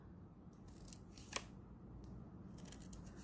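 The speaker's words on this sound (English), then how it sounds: "Just cut up to that line that you drew" Scissors snip wedge-shaped cuts into paper at about half-inch spacing up to a drawn line, while making a folded paper flower pot; quiet, crisp cuts with one sharper snip standing out, no talking.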